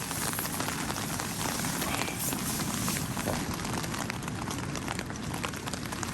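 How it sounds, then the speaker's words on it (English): Heavy rain pours steadily, a dense, loud, continuous hiss of drops pattering on surfaces, with strong wind blowing through an outdoor camp setting and no talking. "Might not be able to hear it over the rain"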